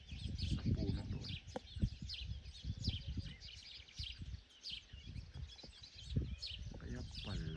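Birds chirping and calling outdoors in a tree, repeated short high tweets throughout, fairly faint, over rumbling handling noise and low background sounds.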